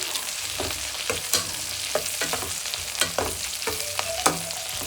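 Chopped onions fry in hot oil in a pan, with steady sizzling and repeated scraping and clinking as a spoon stirs them, close and fairly loud, with no talking.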